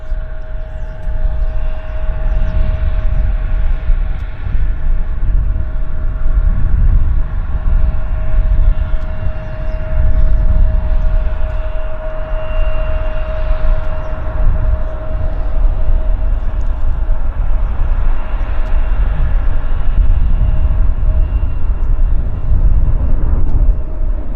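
An airplane takes off at Vancouver airport, its engines a loud, steady roar held throughout with a faint tonal whine on top, heard from a distance and with no talking.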